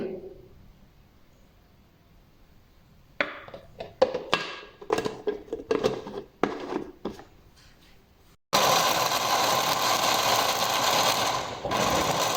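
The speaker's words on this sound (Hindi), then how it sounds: "अब हम इसको ढक्कन लगा के ग्राइंड कर लेंगे।" Mixer grinder blending falsa berries with water and crushed ice under a closed lid: a few seconds of irregular clattering bursts, then a loud, steady, full-bodied whirring roar that runs to the end.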